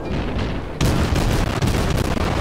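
Naval gunfire from warships in World of Warships: loud, close booming cannon blasts rolling over a dense rumbling battle backdrop, with a sharp new burst after a brief lull.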